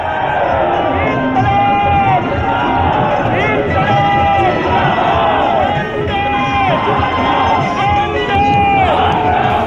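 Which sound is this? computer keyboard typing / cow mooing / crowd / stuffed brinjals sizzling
crowd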